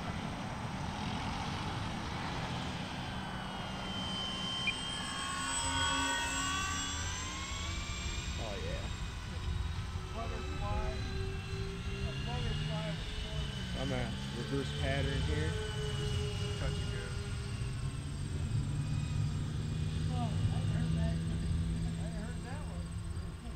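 A Dynam P-61 Black Widow, a 1500mm electric 4S RC warbird, makes a dirty pass with gear and flaps down. Its motor whine rises and falls continuously and fairly faintly as it flies by, over a windy outdoor background.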